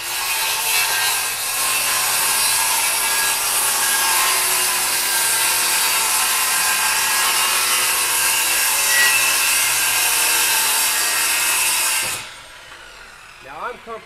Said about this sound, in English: when I'm pushing the skill saw through, I'm letting the tool do the work